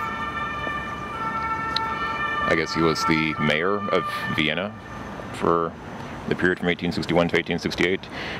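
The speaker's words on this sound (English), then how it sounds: "There's an ambulance going there down the street." An ambulance siren wails steadily in the background on a street in Vienna while someone talks over it, the tone persisting beneath his voice.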